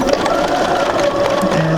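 A sewing machine runs steadily as it stitches off the end of a curved seam on a basic sampler project, a close, continuous mechanical whir with no voices.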